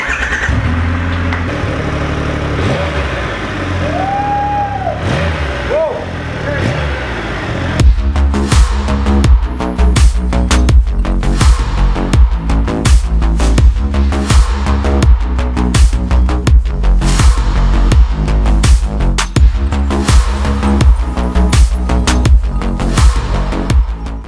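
A 2020 Triumph Rocket 3R motorcycle, with no voices over it, sits in a quiet hum and a high electronic chirp, then its large engine cranks and fires up loudly into a deep, pulsing idle that runs steadily close by.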